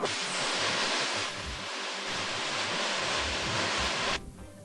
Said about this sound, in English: the LOX converter head pressure will escape through the overboard vent opening and sound like this.